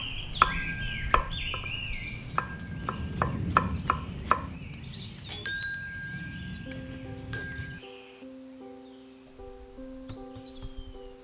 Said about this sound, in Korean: 곱게 채 썰어줍니다.